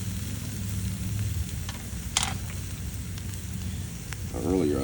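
Kalbi beef cooks on an Iwatani tabletop grill, giving a steady soft sizzle with a few brief clinks, and a voice starts talking near the end.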